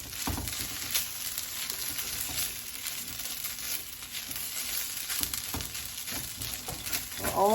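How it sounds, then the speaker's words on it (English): Pork stir-frying in a hot pan with carrots and celery, a continuous close sizzle broken by the scrape and clatter of the food being moved around. "Keep moving it around, get that pork cooked."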